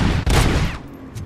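Sniper fire in the RoboCop video game on PS5 comes as a quick, loud close burst of shots with a brief gap, then decays into a fading rumble.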